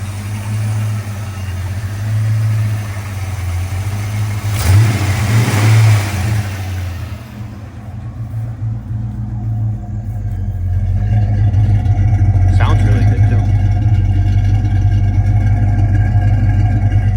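A Ford SVT Cobra V8 runs at its first start after a cheap purchase, a loud, close, steady idle with a brief rev near the start, dipping and then returning stronger and rougher toward the end.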